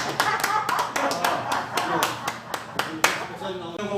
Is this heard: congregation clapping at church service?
yes